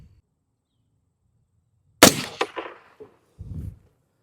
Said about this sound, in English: For the sake of science, we're going to shoot 3 more shots.